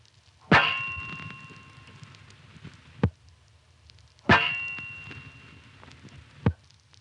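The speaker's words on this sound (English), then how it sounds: "Two attempts to hang up, and neither one was long enough to disconnect from the trunk" A 1976 telephone line with two short hang-up attempts: two loud ringing metallic clangs from the handset and cradle, each decaying over a few seconds and followed by a sharp click, close and with no talking.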